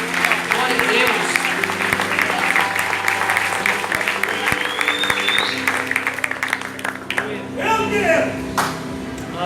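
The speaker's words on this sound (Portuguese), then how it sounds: "Você pode aplaudir o nome do Senhor" A crowd claps and applauds steadily, with voices calling out and a higher tone sliding briefly over the clapping.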